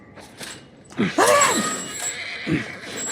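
A horse in the video game The Last of Us Part I neighs with a rising, shaky whinny, followed by a shorter snort-like call, with faint background ambience.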